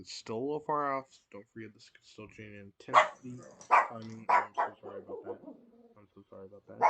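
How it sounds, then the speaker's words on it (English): A pet dog barks a few sharp times near the start, then a person keeps talking at length indoors while the barking stops. "I'm very sorry about my dog. She likes to bark at a lot of stuff."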